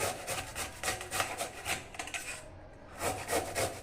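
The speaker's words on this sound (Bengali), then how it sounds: "এবার আমি গাজরগুলো ঘষে নেব" Carrots rubbed against a metal grater over a bowl set on a towel, a steady run of quick rasping strokes close by, with a short pause before the scraping resumes.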